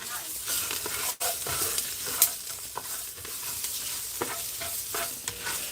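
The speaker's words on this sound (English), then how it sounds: "I'm frying both the rice and the vegetables here for like 10 minutes" Rice and vegetables sizzle steadily in a hot pan while being stirred and scraped, with occasional sharp clinks of a utensil, close by.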